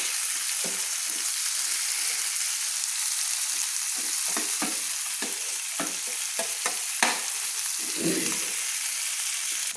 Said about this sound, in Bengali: তেলের মধ্যে আমি নেড়ে নিচ্ছি টমেটোগুলোকে।